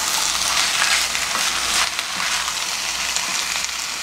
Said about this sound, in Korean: 이렇게 먼저 좀 볶아주겠습니다.